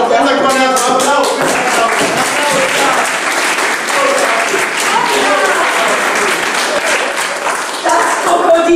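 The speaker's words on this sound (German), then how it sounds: "Applaus!" Loud, enthusiastic applause from a theatre audience at a German comedy puppet show, dense clapping sustained throughout, with raised voices and cheering mixed in.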